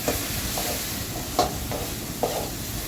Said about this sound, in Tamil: மிளகாத்தூள் நல்லா வதக்கிடணும்.